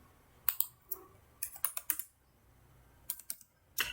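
Computer keyboard keys and mouse buttons clicking while drafting in AutoCAD, in scattered sharp, close clicks, some single and some in quick clusters, with quiet gaps between and no speech.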